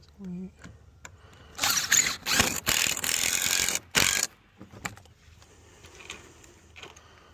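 A hand-cranked ratchet lifting a wooden fence panel into place, heard as bursts of rapid, loud clicking across the middle of the clip, with quieter mechanical ticks before and after.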